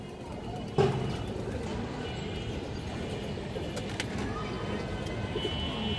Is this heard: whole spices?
no